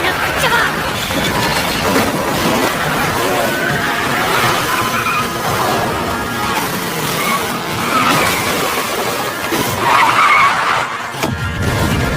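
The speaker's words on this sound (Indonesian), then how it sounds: "tiba-tiba gerombolan orang gila pun kembali mengejarnya dengan mobil, dan kembali terjadi adegan kebut-kebutan yang seru di sini" A high-speed car chase from the film Peninsula, with engines racing and tires skidding and squealing amid crashes, loud and busy, under a narrator's voice.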